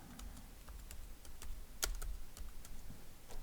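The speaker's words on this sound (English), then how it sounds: "So I'll type in fisheye." Quiet keystrokes on a computer keyboard, a quick irregular run of clicks with one sharper tap near the middle.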